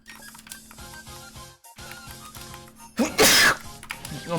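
A single sharp sneeze bursts out loud and close over quiet background music during a live gaming stream, standing out abruptly near the end.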